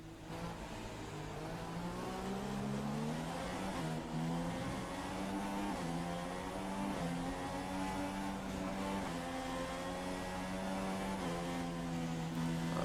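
A Formula 1 car on its formation lap in an F1 video game at Bahrain, engine whining steadily with rising and falling pitch as it revs through gears, loud and continuous with no talk.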